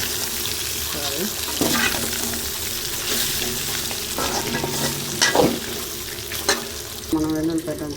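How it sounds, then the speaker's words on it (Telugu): Chicken fries in oil in a home kitchen pan, giving off a constant, close sizzle. Scraping stirs come at intervals over the hiss, and a voice talks briefly in the background. "ఆయిల్ వేసుకొని మధ్య మధ్యలో కలబెట్టుకోవాలి"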